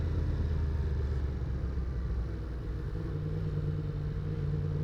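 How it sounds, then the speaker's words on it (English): A 2024 Yamaha MT-10 motorcycle engine braking on a city street, a steady low rumble running loud and close throughout with no talking. "The engine braking is not too bad either."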